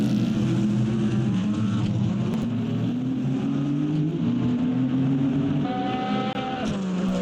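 Simulated race cars lap the Bahrain circuit in a sim racing game, GT machinery including a Lexus, their engines a loud continuous drone with pitch rising and falling through gear changes, several cars audible at once.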